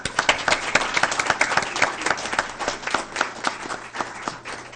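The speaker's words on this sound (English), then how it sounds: "So how about a round of applause for all those folks?" An audience at a school board meeting claps for staff and teachers, a dense patter of many hands that holds steady for a few seconds.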